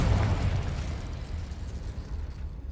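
A Confringo spell explodes in Hogwarts Legacy with a loud booming burst that decays into a rumbling, crackling tail over a couple of seconds, no talk over it.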